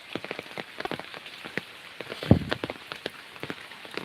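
Rain falls steadily on surfaces in a dense, continuous patter of drops, with one sharper, louder splash near the middle and no voices.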